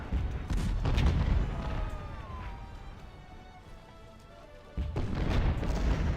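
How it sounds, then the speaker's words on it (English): Cannon barrage of artillery fire in the Civil War video game Ultimate General: Civil War, heavy booming blasts rolling over a dense rumble that eases off mid-clip and then returns loudly near the end. "Cannon barrage isn't anything really awe-inspiring."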